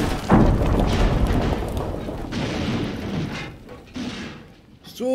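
A gunshot in The Quarry horror video game, a single heavy boom early on followed by rumbling, muffled game sounds and frantic background commotion.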